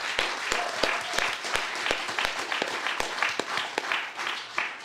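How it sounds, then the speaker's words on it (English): Audience applause at a talk at Revolution Books, a steady patter of many hands with sharp individual claps standing out, sustained and fairly close throughout. "let me hear a round of applause"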